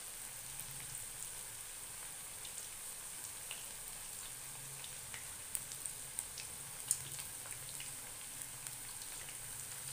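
Potato chips frying in hot ghee at home, a soft steady sizzle with scattered small pops and crackles, quiet and continuous without any talk.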